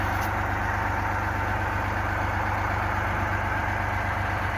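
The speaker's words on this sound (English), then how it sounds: "managed to get this old Foden started and up and running" An old Foden truck's diesel engine idles steadily and loudly close by, a constant low throbbing rumble that never changes pace, with no voices over it.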